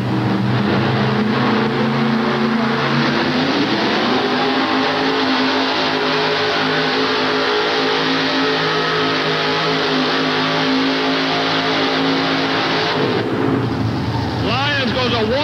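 A pulling truck with an Arias Rodeck engine at a truck pull in Charlotte roars loud and sustained, its pitch sweeping upward as it revs under load, with an announcer talking over it.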